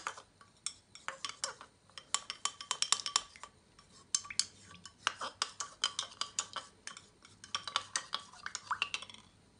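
A spoon stirs baker's yeast into hot water in a bowl for Moroccan chabakia dough, producing rapid, close metallic clinks and scrapes in irregular clustered bursts.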